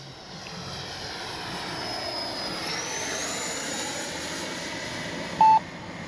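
A Freewing L-39 64mm EDF radio-controlled jet on its maiden flight whines steadily in the distance, a thin sustained ducted-fan hum drifting away on the wind with little change in loudness, and a brief electronic beep near the end.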